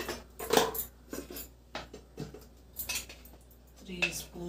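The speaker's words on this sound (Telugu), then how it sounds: "ఇప్పుడు కడాయి పెట్టుకొని" A metal kadai is set down on the stove before frying bitter gourd, with scattered clanks and scrapes of cookware and utensils close by, spaced irregularly over a few seconds with faint voice.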